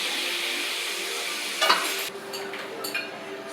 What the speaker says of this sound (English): So I'm gonna double fry my pork.